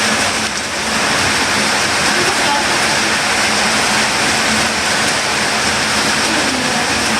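Steady rain pours down loudly and continuously while a pet parrot bathes in it, a broadband wash with no clear breaks, and a voice speaks faintly underneath.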